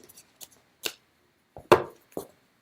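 Tarot cards shuffled in a few separate bursts, crisp riffling and slapping close by at low volume, with short pauses between each handful and no talking.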